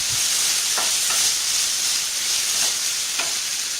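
Egg fried rice is stirred in a hot pan, a constant bright sizzle with a few soft spoon scrapes, close and continuous with no talk.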